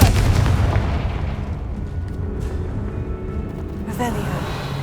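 Confringo spell blasts in the Hogwarts Legacy video game: a dense, booming burst opening the moment, then a rumbling tail of game noise and music with a brighter crackle near the end.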